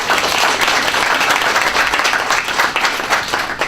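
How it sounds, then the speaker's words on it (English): A seminar audience at a diversity and inclusion week event bursts into sustained applause, a dense, steady wash of many clapping hands that stays loud and even throughout with no voices standing out. "give me a round of applause"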